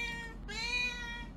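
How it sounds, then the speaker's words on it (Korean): A pet cat meows close by indoors, two drawn-out tonal calls, the second louder and longer, with no talking over them. "저희 집 고양이가 너무 옆에 와가지고 추근덕추근덕 거려가지고"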